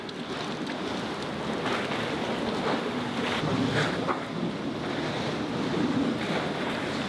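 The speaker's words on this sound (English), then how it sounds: "these waves are up at like a meter, which isn't high, but for being on a dock, it's very high" Choppy, storm-driven waves about a meter high slosh and splash around a dock with gusty wind buffeting the microphone, a constant rough wash with occasional louder slaps.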